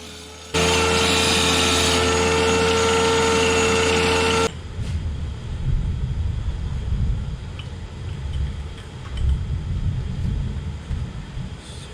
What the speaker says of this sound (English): I'm gonna cut some of these on a diamond saw